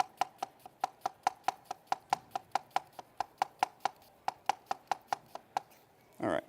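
A knife chops a white onion into thin slices on a cutting board, a fast steady run of about thirty crisp close taps followed by a brief scraping rustle at the end.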